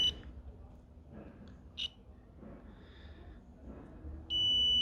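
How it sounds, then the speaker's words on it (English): Multimeter probes touch during a coolant temperature sensor wiring repair on a car, giving a short continuity beep near the start and a steady beep at the end, with quiet handling noise in between. "you should get a beep. That means you've got continuity"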